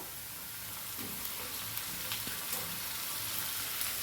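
Onion and green chilli sizzle steadily in a pan as tomato goes in, a continuous close frying hiss with faint stirring clinks and no talk.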